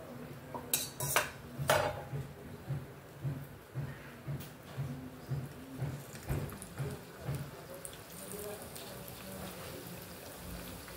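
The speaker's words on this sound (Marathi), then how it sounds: "अशा ह्या चाळणीमध्ये आपण आता करंज्या काढून घेऊया." Fried karanjis are lifted from oil into a modak strainer, with metallic clinks and scrapes of utensils against the pan and strainer amid a soft continuous sizzle, sounding close and fairly quiet.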